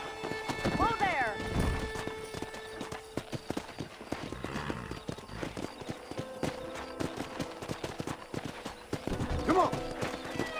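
Wild horses in the Red Dead Redemption video game gallop with a steady clip-clop of hooves, and a whinny rings out near the start and again near the end, with voices talking over the hoofbeats.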